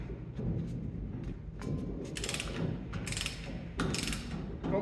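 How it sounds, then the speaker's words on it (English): A hub nut on a Jaguar E-Type wheel is tightened, giving a close, continuous mechanical grinding with bursts of brighter ratcheting clicks. "If I tighten down the hub nut,"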